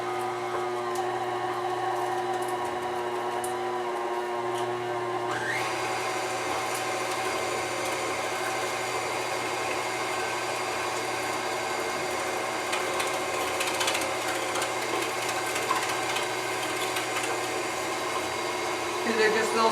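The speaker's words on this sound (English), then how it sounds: "I cut my meat in strips so that would fit down into the shaft of the meat grinder." A meat grinder feeds strips of meat through its shaft with a steady, loud mechanical whir and hum, close by. The tone shifts slightly partway through and then runs on continuously without talk.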